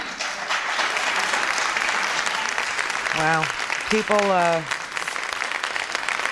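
Applause from the audience at an impeachment hearing after adjournment, a steady wash of clapping throughout, with a few loud voices calling out over it near the middle.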